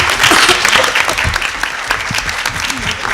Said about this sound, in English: If we can give them a quick round of applause.